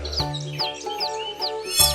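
A small bird chirps in a Hindi animated moral story, with repeated short bright tweets over a sustained musical background, moderately loud throughout.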